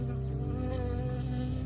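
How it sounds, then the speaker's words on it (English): A bee in the video game Firewatch buzzes steadily and close, a continuous droning hum at constant loudness with no pauses and no voices. "I got stung by a bee."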